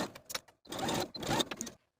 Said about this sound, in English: Sew across this fold with an 1/8 inch seam allowance.